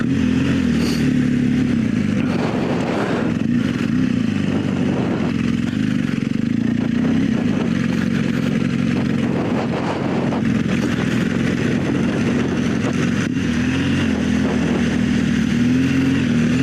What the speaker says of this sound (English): here it is, slamming on the brakes